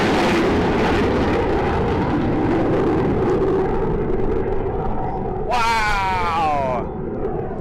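A MiG-17 jet at an air show roars steadily and loudly throughout as it flies past, with a brief rising whistle near the end.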